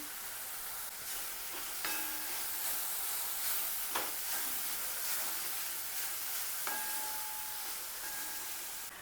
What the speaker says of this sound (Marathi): भाज्या झाकण लावून 1 मिनिटभर वाफवून घेऊया